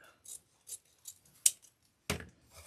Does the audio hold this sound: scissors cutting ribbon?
yes